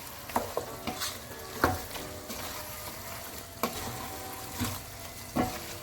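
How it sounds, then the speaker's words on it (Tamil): A spoon scrapes and stirs through a thick chicken porridge mixture with lime juice in a pan, with irregular clinks and knocks over a soft sizzle. "இதோட நாங்கள் இப்போ நல்லா மிக்ஸ் பண்ண போகிறோம்."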